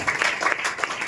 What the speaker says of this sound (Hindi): आप स्तुति की तालियां देंगे।